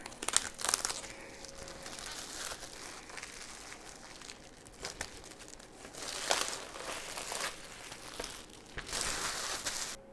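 A utility knife cuts down the side of a mini crawler kit package, then the box is opened and unpacked, with long crinkling and rustling of cardboard and plastic wrap and scattered sharp tearing sounds, close and fairly loud.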